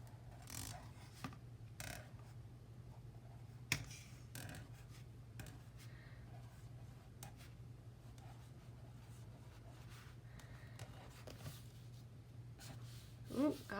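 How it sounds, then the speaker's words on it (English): A hard-nibbed sign pen scratching on notebook paper, faint intermittent scribbling strokes pressed firmly, with occasional louder taps and rubs over a low steady hum. "Okay, this is a very hard nib. I'm really having to push."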